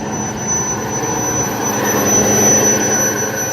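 An old Mary Kay car engine with a coolant leak runs roughly, making a loud, steady drone with a piercing high-pitched ring over it throughout.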